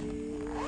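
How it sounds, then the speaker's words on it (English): Zipper on the back pocket of a small bag being pulled open in one quick, close, short rasp. "on the back side, we have this zipper pocket"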